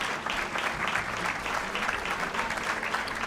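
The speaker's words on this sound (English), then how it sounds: "Let's give a round of applause to all of our community partners." An audience claps for community partners at a school district Hispanic and Latin American Heritage celebration, a lively round of many hands, close and even throughout, with faint murmurs underneath.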